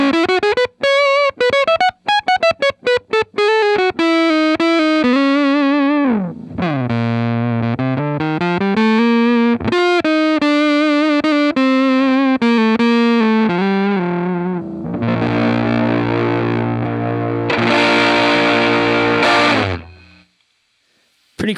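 An Abrachinsky Enigma V2 guitar effects pedal shapes a loud electric guitar into a thick, distorted, modulated tone, with picked notes and sustained chords that swell, bend and ring out before cutting off.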